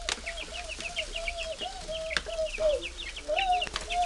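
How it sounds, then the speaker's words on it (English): Several chickens cluck close by in short repeated calls, with occasional wing flaps and a sharp knock or two. "How many chickens you have?"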